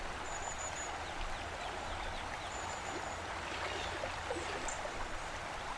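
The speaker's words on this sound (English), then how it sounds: "The river pushed Gerda along in her tiny boat for some time" A river streams steadily past in a fairy-tale audio drama, a continuous soft wash of flowing water with faint bird chirps above it, even and unbroken throughout with no voices.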